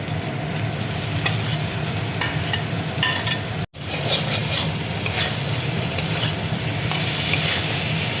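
Fish pieces frying in a pan with ground spices such as chili powder give a loud, steady, close sizzle that runs throughout, broken only by a split-second dropout near the middle, with no talking.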